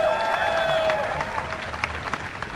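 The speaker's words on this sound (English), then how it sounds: "Give another round of applause for these ladies." A crowd claps and cheers in sustained applause at a live Halo 4 match event, loud at first and gradually thinning out, with a few voices mixed in.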